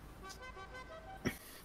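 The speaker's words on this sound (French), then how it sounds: "Ça, c'était le klaxon qu'on faisait quand j'étais à l'armée" A car horn in GTA V gives a short, sharp toot near the end, sounding alone over a faint engine background.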